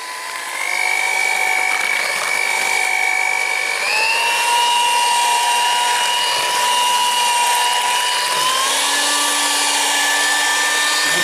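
An electric hand mixer whirs steadily at high speed while beating steamed sponge cake batter, its whine stepping up in pitch twice as the speed increases, loud and continuous with no talking.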